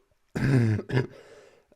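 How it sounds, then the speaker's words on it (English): A single close, throaty cough bursts out loud, followed by a brief rasping trail and quiet, then a short sound at the very end. "there we go, I cough right in the middle of it"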